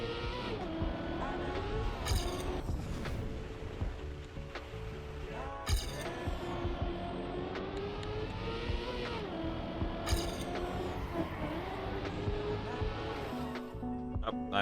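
A race car engine in the Trackmania video game revs continuously, its pitch rising and falling through gear changes, with short bursts of noise from drifts and impacts.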